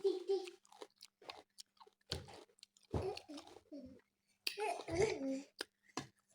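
Pineapple being eaten, with soft, wet chewing and crunchy bites in close, quiet bursts broken by pauses, alongside a voice speaking.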